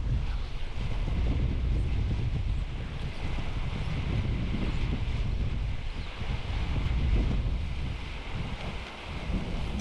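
Steady, strong wind roars and buffets the microphone on open water while fishing, a continuous loud rushing with no pauses.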